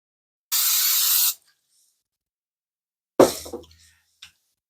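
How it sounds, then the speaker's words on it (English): A single short burst of cooking spray hissing into a frying pan for under a second, followed by silence, then a brief clatter or thump. "we'll spray with some cooking spray"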